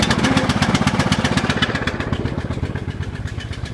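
A small engine on a riding lawn mower or tractor with electric clutch and cruise control starts cold and runs with a loud, rapid, steady chugging rhythm that loosens slightly as it settles, close to the microphone.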